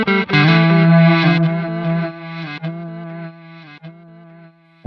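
Distorted electric guitar run through a reverse delay on a Quad Cortex unit, loud sustained chords that swell and repeat with backward-sounding echoes, several struck chords ringing out before a fresh attack at the end.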